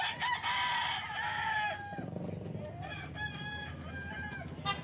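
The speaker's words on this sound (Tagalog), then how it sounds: "Wapo yung manok nila, mga idol." A rooster lets out a loud, drawn-out crow close by at a farm breeder's booth in a busy pet market, with market chatter and noise continuing underneath.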